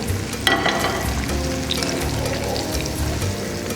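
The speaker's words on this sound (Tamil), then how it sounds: "இந்த உருளைக்கிழங்கு கிறிஸ்பாக பொன்னிறமாக பொரிஞ்சு வந்துடுச்சு" Potatoes frying in hot oil, a close, continuous crackling sizzle with small pops, steady in level and without talk.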